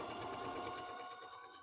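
A Bernina sewing machine stitches a tight scallop stitch at a short stitch length, a steady, fast, even mechanical whir with regular needle pulses, close and continuous.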